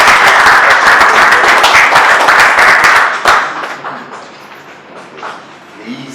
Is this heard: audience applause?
yes